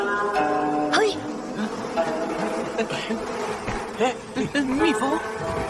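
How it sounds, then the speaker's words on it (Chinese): A bee buzzes steadily and fairly close, its drone wavering in pitch over a busy mix of other sounds. "蜜蜂。"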